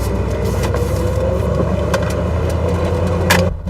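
Old Grand Wagoneer SUV driving along, a steady low engine and road rumble inside the cabin that stays even and fairly quiet, with no one speaking.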